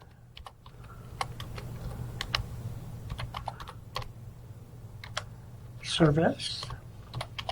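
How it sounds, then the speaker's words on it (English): Someone types on a computer keyboard in a quiet room, with quick, irregular key clicks spread through the whole stretch and a brief spoken word near the end. "I type in United States Code"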